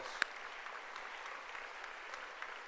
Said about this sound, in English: let's give the class of 2026 a round of applause